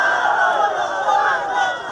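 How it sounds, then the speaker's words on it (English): Soccer crowd at a high school boys varsity senior night match, a sustained loud roar of booing and jeering voices rising in disapproval after a tackle, steady for two seconds. "The crowd once again not liking the tackle."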